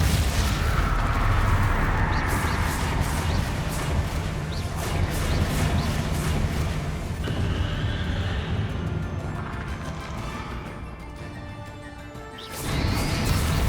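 Blasting spell explosions booming through dense, chaotic combat in Hogwarts Legacy, with repeated loud crashes and impacts layered over a continuous roar of game effects and music, briefly thinning near the end before another burst.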